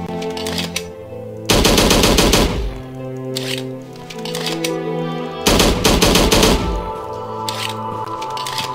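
Video game guns fire in Slendytubbies 3, with two long loud bursts of rapid automatic gunfire separated by shorter shots and thuds, all close and without talking.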